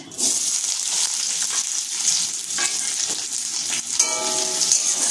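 Onion hitting hot mustard oil in a pan erupts in a loud, steady sizzle, with a crackling hiss that stays close and constant and a spatula stirring near the end.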